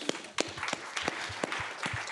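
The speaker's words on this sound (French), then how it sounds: "Merci d'applaudir, s'il vous plaît." Scattered, faint claps come from a small audience at a French conference session on private equity, sounding as sparse, distinct hand claps rather than a full ovation.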